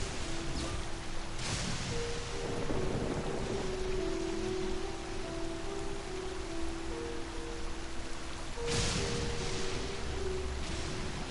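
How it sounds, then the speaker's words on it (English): A thunder and lightning storm in the video game Genshin Impact, with a steady rush of rain-like noise throughout and two sharp, loud cracks of nearby lightning strikes, one early and one near the end. "I feel like the lightning's just coming straight for me because that was a little too close."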